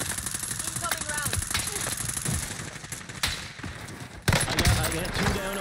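Incoming gunfire in the Warzone video game: rapid bursts of shots and sharp cracks, fairly quiet and distant, with a louder burst near the end, while players talk over it.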